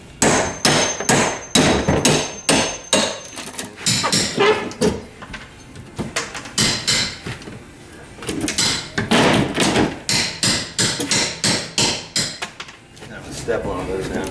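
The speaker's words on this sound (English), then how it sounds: "Just get it started with your hammer and get it underneath the plywood." Loud, close hammer blows strike in rapid bursts, with wood and plywood knocking and creaking as it is pried up with a pry bar in a kitchen, and some talking in between.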